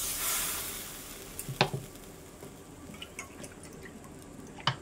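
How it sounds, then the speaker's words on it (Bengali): Water poured onto fried spice paste in a pan while cooking a prawn and small-fish curry, starting with a brief hissing burst of sizzle that settles into a soft bubbling simmer, with a few clinks of the utensil. "এখন জল দিয়ে দিচ্ছি।"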